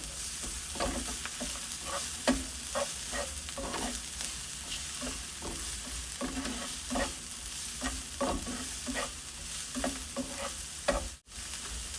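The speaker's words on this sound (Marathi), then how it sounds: "यात आपण कुटलेलं अद्रक लसूण घालूया। हे सुद्धा छान परतून घेऊया।" Crushed ginger and garlic sauté with onion in a pan for a dry drumstick vegetable dish, a steady close sizzle broken by repeated scrapes and stirs of a spoon, with no talking.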